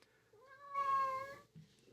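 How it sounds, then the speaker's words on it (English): A house cat gives one clear, drawn-out meow close by, rising and holding steady before trailing off, with no one talking over it. "My cat's sad too."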